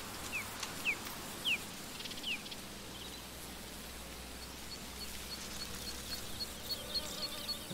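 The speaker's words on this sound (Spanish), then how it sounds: "Mira la abeja, mira la abeja." Bees buzz faintly in the video game A Plague Tale: Requiem, a low steady insect drone with a few brief, sharper buzzes as individual bees pass close in the first few seconds.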